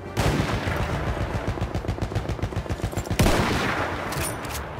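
Rapid bursts of gunfire from the Battlefield 1 video game, dense rattling volleys of automatic shots in a steady stuttering rhythm, with a sharper, louder burst partway through, loud and close throughout.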